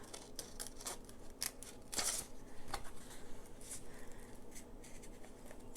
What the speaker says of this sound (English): we're going to go ahead and take these and just loosely cut out around them